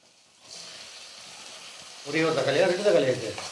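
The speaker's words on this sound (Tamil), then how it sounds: "வெங்காயம் வந்து வதங்கிடுச்சு இப்போ தக்காளி சேர்த்துக்கலாம்" Onions sauté in a pan before tomatoes are added, giving a soft hiss that swells into louder sizzling and stirring partway through, with a voice-like murmur over the later part.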